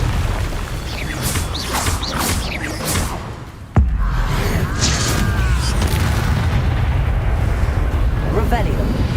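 A Confringo blasting spell in the Hogwarts Legacy video game lands as a sharp, loud boom partway through, followed by sustained rumbling combat noise, with whooshes and game sounds before it.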